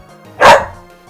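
A single sharp, loud dog bark close by, one short burst standing out against a faint background.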